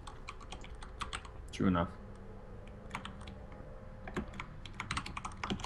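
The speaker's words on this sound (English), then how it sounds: "I was gonna ask who you're typing to, is a little tickety tackety" Computer keyboard typing in a StarCraft tournament commentary booth, a quiet run of light rapid clicks and taps that stops and starts, with a brief spoken remark partway through.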